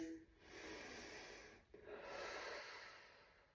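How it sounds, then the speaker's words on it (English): A slow breath drawn in through the nose during a core fascial exercise, a soft airy rush that swells over a few seconds, briefly dips, then continues steadily at close range with no talking. "Now we're going to do 6 breaths through our nose."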